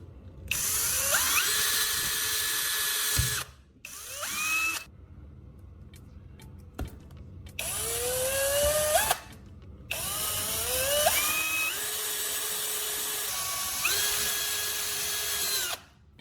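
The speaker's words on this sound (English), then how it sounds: "drill a clean hole right in the" A small electric drill whirs in several bursts, pitch rising and falling as it bites into the plastic cap of a 1.5-liter bottle, with brief pauses between runs.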